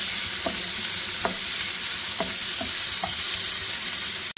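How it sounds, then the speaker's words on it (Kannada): Byadagi chillies and tomatoes fry in a pan for palak chicken, giving a steady close sizzle broken by about five sharp spoon scrapes against the pan. "ಈಗ ಸ್ವಲ್ಪ ಟೊಮೊಟೊ ಹಾಕ್ಕೊತಾ ಇದ್ದೀನಿ ಚೆನ್ನಾಗಿ ಫ್ರೈ ಮಾಡ್ಕೊಳ್ಳೋಣ ಸ್ವಲ್ಪ"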